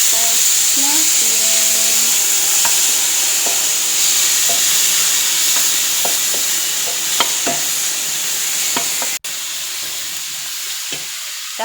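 Food fries and is stirred in a pan with a loud, steady hiss, irregular scraping taps from the utensil and a faint tonal sound near the start, before the sizzle softens toward the end.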